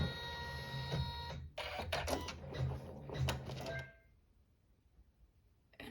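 An embroidery machine sews a placement stitch in black thread on a hooped tablet sleeve project: a close, steady rapid whirring and needle clatter for about four seconds, then a quiet stop.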